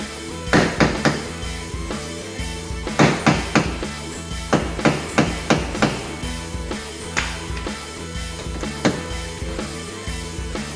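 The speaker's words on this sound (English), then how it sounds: "let's try and get the hammer in there" A dozen or so sharp metallic hammer blows on a rusted, stuck rear bumper bolt of an Alfa Romeo Brera, in quick bursts of three or four, with short pauses between groups, close and fairly loud.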